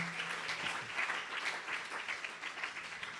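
A church congregation applauds in a sustained, moderately distant round of clapping that holds steady for several seconds.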